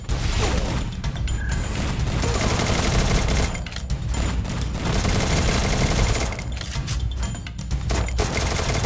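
Dense, continuous bursts of rapid gunfire with clanking mechanical sounds in the mobile game Free Fire, loud and relentless throughout, a chaotic firefight.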